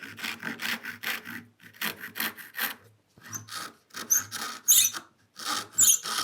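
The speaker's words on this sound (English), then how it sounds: "I'm going to give them a gentle tap, and then I'm going to cross cut them." A hand saw cross-cuts wooden stool legs in repeated strokes, each rasping pass broken by short pauses, close and fairly loud, with no talk.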